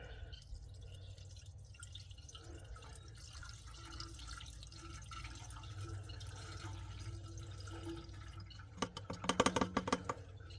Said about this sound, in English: I'm going to pour the rest of this stuff in the oil here.